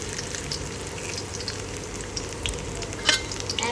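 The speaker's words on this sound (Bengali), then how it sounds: "এখন আমি দিয়ে দেবো এখানে হচ্ছে আদা রসুন কুচি" Chopped ginger and garlic fry in hot oil in a well-heated wok, giving a steady close sizzle with a few sharper crackles and pops toward the end, with no voices.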